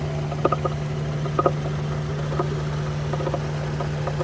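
A Suzuki Mehran car engine idles with a steady low hum, while a faint irregular knocking or rattling noise recurs several times over the drone. No one speaks.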